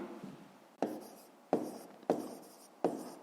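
Pen writing on paper in a Ukrainian grade 5 math lesson: four sharp onset strokes, each followed by a short scratchy tail, close and fairly quiet with no talking.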